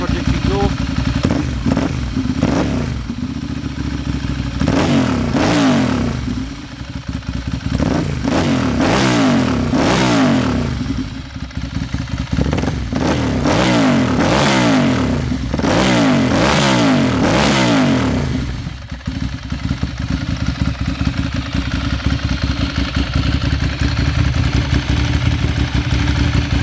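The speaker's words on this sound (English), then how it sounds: "give this a little flip of the throttle just so you can hear these lovely SC Project exhaust" A Ducati motorcycle with an aftermarket SC Project exhaust revs hard in repeated bursts, the throttle blipped several times in a row with a loud, crackling roar over a steady idle.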